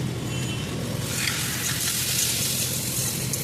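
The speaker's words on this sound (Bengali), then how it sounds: "নারকেল কোড়াটা দিয়ে ভালো করে নাড়াচাড়া করতে হবে।" Grated coconut frying in a pan while being stirred, a dense continuous sizzle with scraping stir noises, fairly loud and steady from start to finish.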